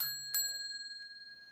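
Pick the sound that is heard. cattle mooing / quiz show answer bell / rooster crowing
quiz show answer bell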